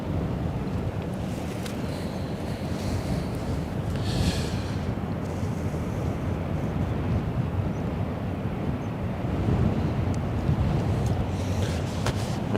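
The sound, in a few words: wind blowing at the Westerschelde shore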